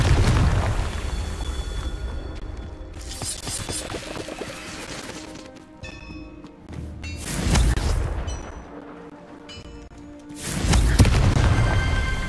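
Confringo blasting spell in Hogwarts Legacy, several heavy booming blasts with bright crackling bursts arriving in separate waves, loud and close against a quieter background hum.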